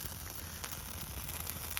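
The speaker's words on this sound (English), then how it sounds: "you can hear the water sizzling as it's drying up" A wood fire laid log cabin style burns steadily, with water in the logs sizzling and hissing as it dries, plus faint scattered crackles; no one talks.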